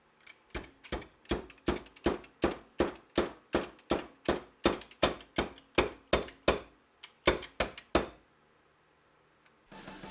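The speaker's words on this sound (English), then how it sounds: "Using your fork seal driver, seat the bushing into the fork tube." A fork seal driver hammers a bushing into the fork tube of a 1998–2001 Yamaha YZ125, about twenty sharp metallic knocks in a steady rhythm, close and loud, with the final strikes changing tone before stopping.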